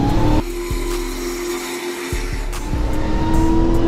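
Dodge Hellcat car accelerating hard, a loud roaring engine with rising revs and gear changes, heard up close from inside the car.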